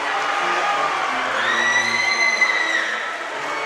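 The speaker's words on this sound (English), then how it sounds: "The crowd gets excited" Basketball crowd in a school gym cheering and whooping after a clutch three-pointer in a Gators game against Warren Central, a steady loud roar of many voices with high shouts rising through the middle before easing off.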